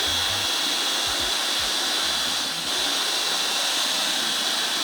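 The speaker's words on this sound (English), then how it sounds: "Paint mixer for the win. It's a lot easier than a mash paddle." A paint mixer on a power drill stirs brewing mash in a loud, steady, unbroken whirring roar with a broad hiss, close up and alone for about five seconds.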